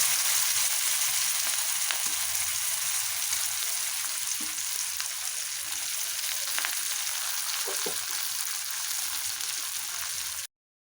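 Oil heating in a pan for an Assamese eggplant and fish curry, with a loud, continuous close-up sizzle and frying hiss that holds steady throughout and then stops abruptly.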